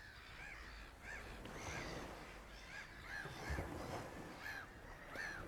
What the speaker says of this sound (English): Those are birds. Those are seagulls.